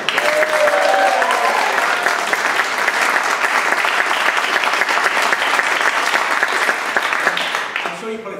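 Sustained loud applause from a school music competition final audience, steady clapping throughout that tapers off slightly at the end.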